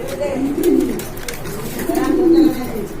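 Racer pigeons cooing nearby, two soft throaty bursts of low rolling coos separated by a short pause, over a faint background murmur.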